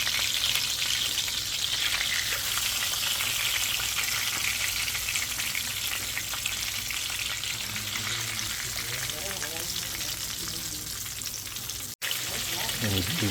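Country fried steak frying in hot oil gives a steady, dense sizzle and crackle close by, with faint voices underneath and a brief dropout near the end.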